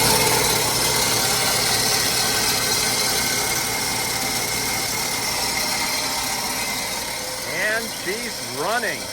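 An electric motor on a vintage gas station pump hums steadily at close range, with a dense mechanical drone and vibration throughout and brief voice-like sounds near the end.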